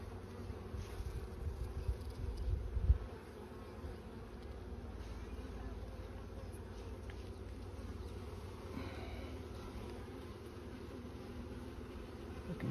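Honeybees in an open beehive give a steady, soft droning hum close to the microphone, with some louder rustling and bumping in the first few seconds and no talking.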